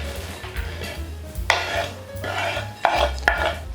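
Dry biscuits, nuts and candied fruit are stirred in a bowl, producing light rattling scrapes and a few sharper knocks of a spoon against the bowl, close by with a faint low hum behind.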